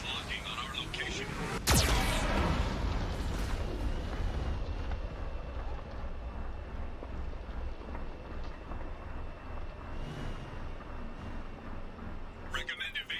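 In the video game Mass Effect 2, a Geth cannon fires with a sharp blast followed by rumbling explosions and a heavy, continuous roar, while voices talk over the battle noise.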